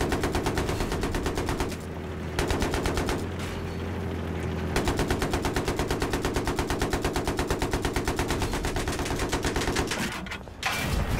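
Sustained automatic machine gun fire in the military shooter Battlefield 3, a fast steady rattle of close shots in long bursts with two brief pauses, loud and unbroken by talk.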